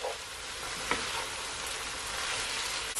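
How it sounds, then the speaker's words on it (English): Cabbage frying in a pan as seasoning and pimento seed are stirred in, a dense continuous sizzle with a spoon scraping through once or twice, close and steady with no voices. "Just mix it in."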